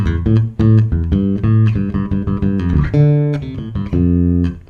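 Bass guitar plays a minor pentatonic turnaround riff, with punchy plucked notes moving in a busy, syncopated line. It is loud and close, with no voices.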